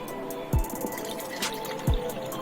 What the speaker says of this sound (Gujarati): સૌપ્રથમ આપણે 1 ગ્લાસ ઠંડુ પાણી લઈશું